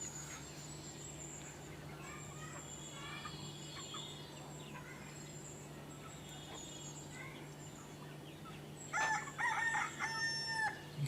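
Village desi rooster crowing in a Konkan backyard poultry yard, repeated drawn-out crows at moderate distance, with a louder, closer crow near the end over steady outdoor hum and other birds.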